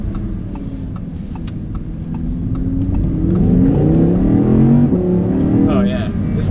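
An Audi R8 with a 5.2-liter V10 making 533 horsepower accelerates hard, its engine note climbing in pitch as it revs up, loud and close, while a person talks over it.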